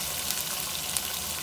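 Onions frying in a pan for kadhi pakora, a steady, dense crackling sizzle heard close up throughout the short moment, with no talking.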